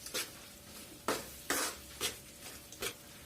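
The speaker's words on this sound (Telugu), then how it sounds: "ఘీ యాడ్ చేసిన తర్వాత కూడా ఒకసారి మళ్ళీ మిక్స్ చేసుకుందాం." Double ka meetha is stirred in a pan after ghee goes in, six or so quick scraping strokes spaced irregularly over a soft sizzle, close and fairly quiet.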